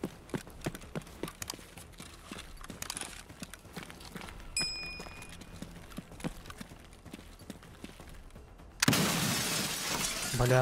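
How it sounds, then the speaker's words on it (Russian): A bullet shatters a glass window in the shooter game Escape from Tarkov: a sudden loud crash of breaking glass near the end, after a run of steady in-game footsteps and small clicks. "в стекло попал, серьезно?"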